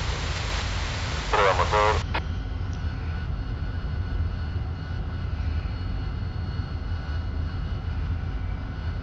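An AV-8B Harrier jet engine in the DCS flight simulator, a loud steady roaring rumble with broad hiss that holds evenly throughout, with a brief voice-like burst near the start.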